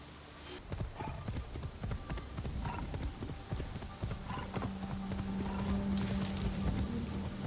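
In the Assassin's Creed Shadows video game, a horse's hooves clip-clop in a steady walking rhythm over the game's ambient background, with a faint tonal hum near the end.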